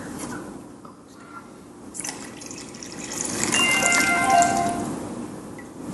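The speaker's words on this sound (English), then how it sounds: "go ahead and pour the coffee" Cuban coffee poured from a cup into an ice cream mixture, a soft liquid trickle and splash that grows fuller toward the end, close and fairly quiet with no talking.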